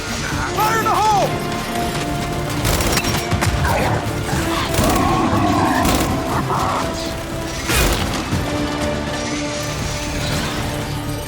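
A grenade blows up in the Gears 5 video game: a sharp crash-like blast amid busy battle noise, with a second heavy impact a few seconds later, both loud and close.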